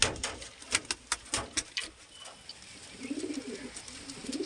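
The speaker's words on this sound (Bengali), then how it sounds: "এই হচ্ছে নর পায়রা" A male pigeon coos softly in low, throaty burbles, close by. Before the cooing comes a series of sharp tapping clicks.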